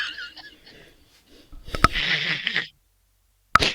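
One person gives a sharp, sudden sneeze after a short indrawn breath, following faint talk in a quiet room. A brief click comes after a pause.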